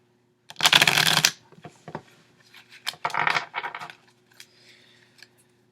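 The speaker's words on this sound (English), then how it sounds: "Shuffle and cut." Tarot cards are shuffled by hand in a loud riffle burst, followed by softer flicks, taps and a second shorter riffle as the deck is cut and squared, close up with no talking.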